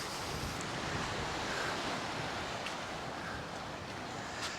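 Surf washing onto the main beach at Santa Ponsa, Mallorca, a steady broadband wash of breaking waves with wind buffeting the microphone throughout, no voices.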